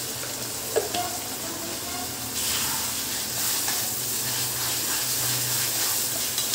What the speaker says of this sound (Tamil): இதை நம்ம நல்லா கலந்து வச்சு கொஞ்சமாக மஞ்சள் பொடி சேர்த்து நம்ம வதக்கி விட போகிறோம்